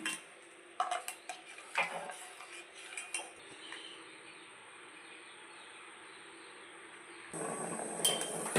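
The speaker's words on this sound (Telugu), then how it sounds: "ఇలా కలుపుకుంటూ ఉడికించుకోవాలి" A spoon stirs a jelly mixture with powdered sugar in a pot on a gas stove, giving light metallic scrapes and taps early on, then settling into a steady faint hiss with occasional clinks.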